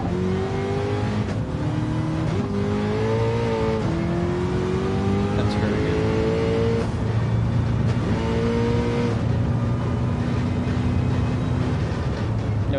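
A turbocharged 1,200-horsepower car engine in a racing video game revs repeatedly, its pitch climbing and dropping through several gear pulls over a steady loud drone, with no talk.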